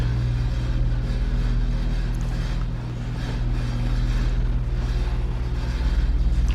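A white Lamborghini Aventador SVJ sits in a detailing shop with its engine running. It gives a loud, steady, deep rumble that holds for several seconds, and no one speaks.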